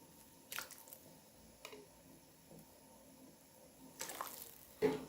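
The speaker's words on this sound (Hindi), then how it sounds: "अब मैं विनीगर की 2 चम्मच ऐड करती हूँ इसके अंदर।" Two spoonfuls of vinegar go into a pot of chicken hot and sour soup, giving faint, brief liquid splashes and squishy drips against a quiet background.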